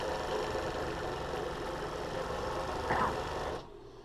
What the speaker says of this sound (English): So go ahead and serge.